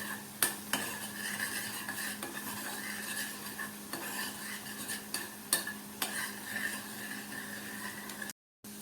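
A spoon stirs tomato garlic chutney cooking in a pan, scraping in irregular strokes over a soft steady sizzle, close and moderately quiet, with no talk.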